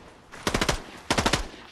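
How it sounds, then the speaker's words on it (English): Gunfire in the video game Fortnite: two loud, close bursts of rapid automatic fire with a short pause between them. "5 seconds without getting shot at"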